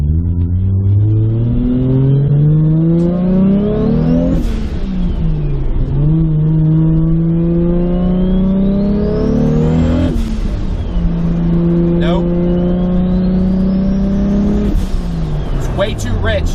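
A Toyota Supra turbo engine runs still on a base map, revving hard through the gears with rising sweeps and shifts. It is loud and close from inside the car, and a voice speaks over it.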